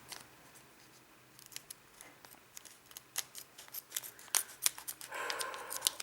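Scissors snip open a Pokémon XY Legendary Holo Collection booster pack in a run of small, quiet, irregular cuts and crinkles that grow louder and busier toward the end, with no talking.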